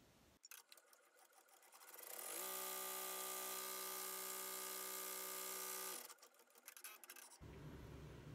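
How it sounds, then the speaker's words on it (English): An embroidery machine runs a tack-down stitch on an in-the-hoop double zipper bag, giving a close, steady buzzing whir that ramps up, holds for a few seconds, then winds down, with faint handling clicks before and after. "we're going to go ahead and run our tack down stitch"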